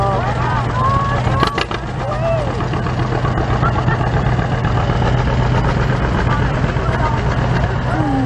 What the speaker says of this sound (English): Look, the tractors.